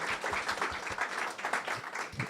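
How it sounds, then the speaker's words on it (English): A room full of attendees at a startup pitch summit claps steadily, a soft, continuous wash of applause heard from a slight distance. "So if you give a round of applause to them."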